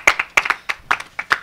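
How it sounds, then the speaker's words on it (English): A small group clapping for a presenter in a class, sparse and uneven with about seven distinct claps spread over a second and a half. "At least we clap for you."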